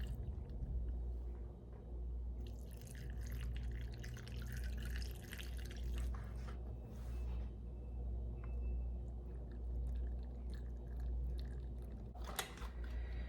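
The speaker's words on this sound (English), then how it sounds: "All right, these are ready for this brine that I have allowed to cool. So I'm going to fill the jars." Cooled brine for sweet refrigerator pickles poured into jars packed with sliced onion, a steady liquid trickle and dripping with low background rumble and a few faint clinks, no talking.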